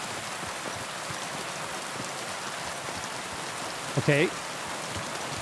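Heavy rain pours in the video game Kingdom Come: Deliverance 2, a dense, even hiss of drops hammering surfaces throughout, with a single brief spoken word near the end.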